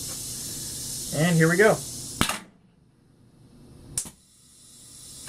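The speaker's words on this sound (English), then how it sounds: "I'm going to plug my air line in and we're going to crush a can" A pneumatic can crusher fed by an air line hits a store-brand soda can with a sharp crushing bang, then a short hiss and a second sharp burst from the ejection piston, after a brief spoken line.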